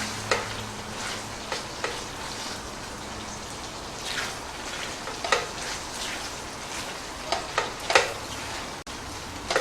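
Potato cubes being stirred and coated in thick rendang sauce in a pan, a soft continuous sizzle with repeated scraping strokes and light clacks of the spoon, close up, no talking.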